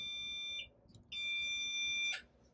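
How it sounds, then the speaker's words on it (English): Two clear electronic beeps from a Sequra HK1 smart latch lock reset sound in succession, each a steady high tone lasting about half a second or more, in a quiet room. "press the reset button until it beeps twice"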